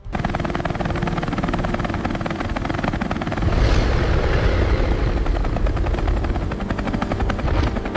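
A drone descends over a forest toward a Tyrannosaurus in a documentary scene, its steady, loud rotor buzz droning continuously and swelling slightly midway, with no voices.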